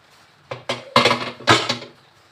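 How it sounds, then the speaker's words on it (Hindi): A metal pressure cooker holding cooked chickpeas is opened, giving a series of sharp metallic clanks and clinks of lid and pot, about five distinct hits spread over two seconds, close and fairly loud. "कुकर को खोलेंगे"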